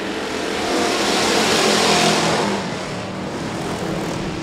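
Sportsman race cars roar past at Rapid Speedway during a heat race, a loud sustained engine rush that swells and fades as the pack goes by, with no talk.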